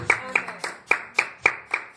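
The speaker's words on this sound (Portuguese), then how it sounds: "Dá uma salva de palmas para ele nessa noite, amém?" Steady rhythmic handclaps, about three per second, ring out in a reverberant church during a sermon, sounding like a few people clapping together.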